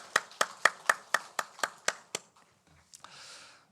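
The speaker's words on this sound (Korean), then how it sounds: "다시 한번 우리 축복에 박수 하시겠어요?" Rhythmic unison clapping from a church congregation at a Sunday worship service: about ten sharp, evenly spaced claps that stop, followed by a brief quiet gap and a soft wash of scattered hand noise.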